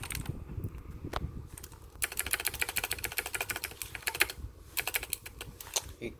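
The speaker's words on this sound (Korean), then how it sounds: "보시면 소리도 되게 크죠?" A Filco Majestouch 2 Convertible mechanical keyboard with blue switches is typed on steadily, loud clicky keystrokes in a fast continuous rhythm with brief pauses, close up and alone.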